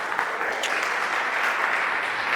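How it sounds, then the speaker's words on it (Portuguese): A congregation at a Pentecost novena church service applauds after a scripture reading. The clapping is dense, steady and fairly close, and lasts the whole time without a break. "Vamos aplaudir a maravilhosa palavra de Deus"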